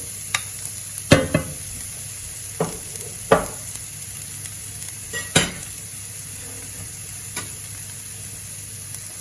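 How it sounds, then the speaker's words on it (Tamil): Chopped onions softening in oil in a pan, a steady low sizzle broken by a few sharp clanks of a spatula against the pan, spaced irregularly and heard close up with no speech. "இதில் வந்து வெட்டி வச்ச வெங்காயத்தில் பாதி வெங்காயத்தை போட்டு லேசாக வதக்க போகிறாங்க"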